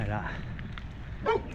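A dog on a hillside trail gives a short yip or bark near the end, close by and brief, with someone talking over the scene and footsteps beneath.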